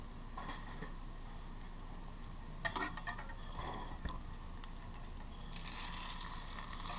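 Tofu sizzles in a hot oil and butter mix while a spatula scrapes and stirs it around the pan, with a steady frying hiss and occasional clinks and scrapes.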